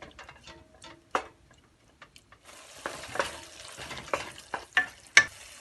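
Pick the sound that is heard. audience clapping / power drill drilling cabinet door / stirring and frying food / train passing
stirring and frying food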